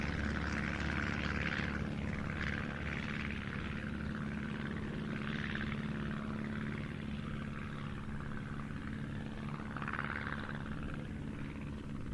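Vintage propeller aircraft flying at the IWM Duxford airshow, a First World War fighter in Escadrille Lafayette markings, with a steady droning engine hum rising and falling in waves as it passes, continuous and moderately distant.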